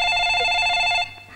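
A telephone bell rings loudly and close for about a second, a bright trilling tone that then cuts off, leaving a fading room tail.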